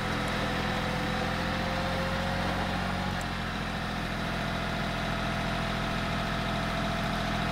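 A tractor engine runs steadily while a rear blade digs a trench for driveway stone edging, a continuous loud low drone with constant vibration and no pauses.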